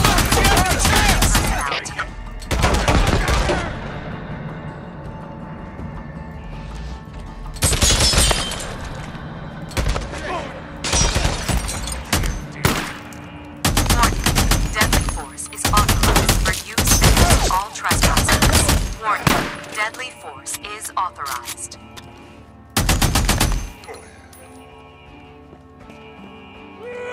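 Bursts of automatic gunfire and shooting from the Days Gone video game crackle in repeated volleys, loud and close, with shouting voices and hoofbeat-like clatter mixed in between the bursts.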